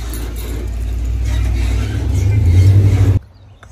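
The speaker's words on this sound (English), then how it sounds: "There's a car driving by." A car drives by close and loud. Its engine and tire noise build steadily before cutting off abruptly near the end.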